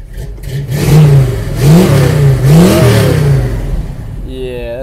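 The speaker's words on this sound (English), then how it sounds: "let's go ahead and let's crank her up" A 1966 Chevrolet Nova engine cranks, catches, and revs in several rising and falling surges, loud and close, settling toward a steady idle, with no talk over it.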